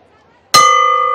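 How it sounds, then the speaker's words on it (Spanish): A single loud clang of a boxing ring bell starting the first round of a boxing match rings out and sustains with a bright metallic tone after near silence. "Suena la campana, empiezan las emociones."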